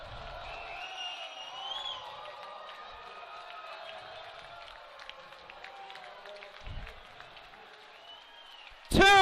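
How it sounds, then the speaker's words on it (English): Home crowd at a Trinity College Bantams men's ice hockey game against Wesleyan keeps up a steady roar of cheering and applause through the closing seconds, with a brief loud burst at the very end. "Listen to this crowd."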